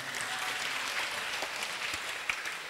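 An audience at a religious study gathering claps in a short burst of applause, moderately loud and continuous, with no voice over it.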